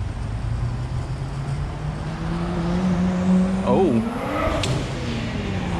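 A nearby car with a big single exhaust revs, its engine note rising and swooping over a low idle rumble at a gas station and fast-food stop, with traffic noise around it.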